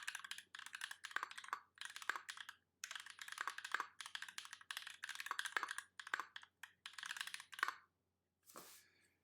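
Rapid bursts of mechanical keystrokes on a Duck Viper V2 keyboard fitted with Holy Panda switches, close and crisp, clustered in quick runs with short pauses between, and a last soft clack near the end.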